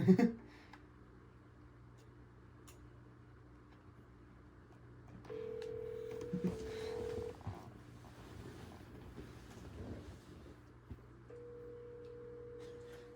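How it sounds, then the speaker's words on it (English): A phone call rings through a speaker: steady electronic ringback tones repeat in long bursts over a low background hum, with faint noise and no one talking. "Maybe give Nick Owens one more ring."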